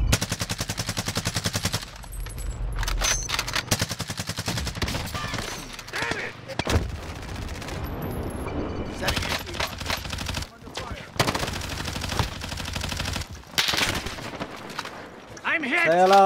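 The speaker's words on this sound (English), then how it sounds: "Oh, he's shooting me." Rapid automatic gunfire bursts from the Warzone shooter game, loud dense volleys repeating in rapid strings with brief gaps, with players talking over the action.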